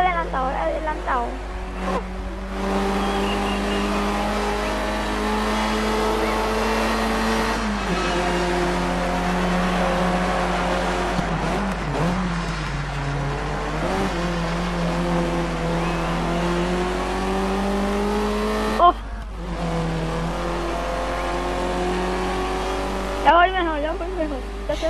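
Race car engine in the rally game Dirt 3 holding a loud, steady high-revving drone with shifting pitch through gear changes, brief dips and tire noise, running continuously close up with no talk.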